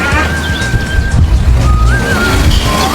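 A car on a test drive after a brake pad repair, its engine and road rumble running steadily and fairly loud, with a thin whistling tone drifting in and out above it and no voices.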